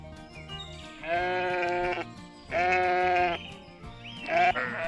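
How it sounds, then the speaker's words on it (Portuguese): Sheep bleat loudly three times, each a long wavering cry with short quiet gaps between, close and clear over faint background noise. "As ovelhas são mamíferos ruminantes."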